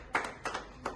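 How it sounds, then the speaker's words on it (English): A few sharp hand claps, three quick separate bursts, fairly faint, from people in a room applauding a classroom group presentation. "Let's clap hands for him."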